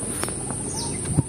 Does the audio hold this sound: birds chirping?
yes